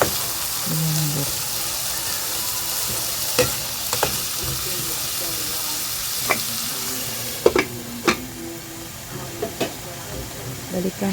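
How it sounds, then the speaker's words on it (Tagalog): Pink salmon miso sinigang with tomatoes is stirred in a pot, giving a steady sizzling simmer with scattered sharp clicks and scrapes of the spoon against the pot, moderately close. "Haluin natin ulit"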